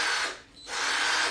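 A cheap Walmart power drill spins in two steady whirring bursts separated by a brief pause, close and fairly loud with no talking.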